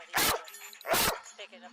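A cadaver dog trained to alert on traumatic scent gives two loud, sharp barks about a second apart, each a short broadband burst, with quieter faint sounds trailing between and after.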